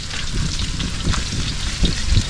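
Garlic sizzles steadily in hot cooking oil, a dense continuous frying crackle with a few louder pops and stirring clanks, close and fairly loud.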